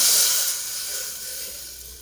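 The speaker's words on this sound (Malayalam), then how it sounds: "പഞ്ചസാര പാനി ഒഴിച്ച് കൊടുക്കാം" Sugar syrup poured onto hot papaya pieces in a pan gives a strong steamy hiss that starts loud and gradually settles into a softer, steady sizzle, with no voices.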